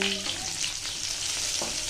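Hot oil spatters and sizzles in a pan while cooking paneer butter masala, a dense, close, steady crackling hiss with a brief clatter near the start.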